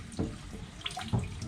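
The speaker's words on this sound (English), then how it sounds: "gotta rinse it off with some warm water to get all the activator off so the paint can set nicely" Warm tap water runs from a faucet to rinse activator off a hydro-dipped airsoft part, a quiet splashing trickle with a few louder gushes, heard alone.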